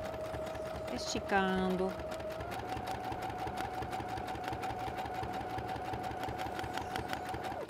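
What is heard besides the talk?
sewing machine stitching a plastic travel toiletry bag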